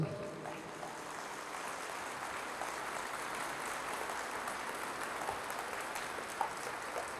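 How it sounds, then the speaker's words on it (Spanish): Church congregation applauding during a Catholic Epiphany Mass, a steady wash of many hands clapping at moderate distance, continuous and even for several seconds. "Fuertes aplausos al Señor."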